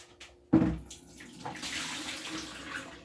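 Cooking water gushes out of a pot of cooked spinach as it is drained, starting with a sudden splash and settling into a steady pouring rush of water, close and moderately loud with no talking.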